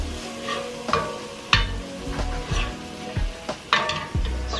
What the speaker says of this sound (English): The sizzling died out a little bit because those were frozen vegetables